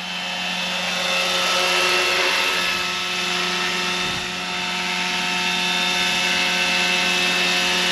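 A Roban 600-size scale Hughes MD500 RC helicopter runs at a 1400 RPM head speed, giving a steady, loud rotor drone with a constant whine that holds close and even throughout.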